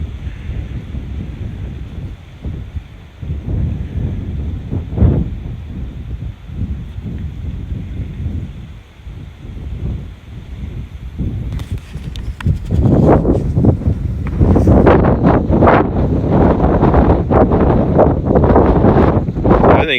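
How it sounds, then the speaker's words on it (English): Strong wind buffets a small DJI Mavic Mini drone's microphone outdoors near a camping park, a continuous loud rumbling roar that grows heavier and gustier in the second half. "you can hear the wind blowing"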